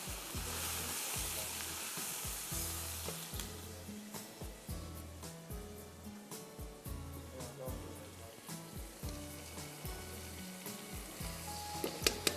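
Ginger garlic paste sizzles and crackles in hot oil for a vegetable and chicken pulao, a continuous close frying hiss over a steady rhythmic low beat in the background.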